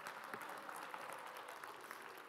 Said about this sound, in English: there's a round of applause appropriate for Ivy